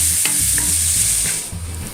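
Diced pork belly fries in olive oil in a casserole pan with a continuous close sizzle, broken by the scrape and clatter of stirring.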